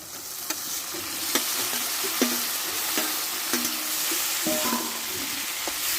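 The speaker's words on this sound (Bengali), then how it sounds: "মশলাটা ভালোভাবে আমি কষে নিচ্ছি এবার সেদ্ধ রাখা আমি ওলে একটু ঢেলে দেবো" Spice paste is fried in a pan with boiled elephant-foot yam stems, giving a steady close sizzle broken by scattered clinks and scrapes of a spatula as the mixture is stirred, with no voices.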